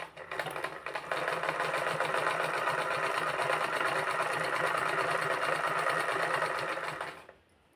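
A sewing machine stitching the fall onto a saree runs in one steady, fast, close whirring stretch for about six seconds, then stops abruptly.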